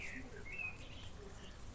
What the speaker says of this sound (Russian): Это дрозд поет, кстати.